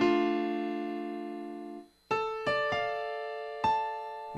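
Piano plays a short merengue riff with the root shifted to A, opening on a sustained chord, then a few crisp, spaced notes after a brief pause, fairly quiet and close, with no voices.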